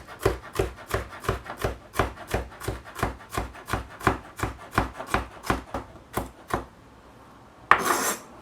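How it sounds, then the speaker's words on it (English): Vegetables for pico de gallo chopped with a knife on a cutting board, a steady run of about twenty crisp close knocks that slows and stops, then a short scraping rustle at the end. "just going to chop this up."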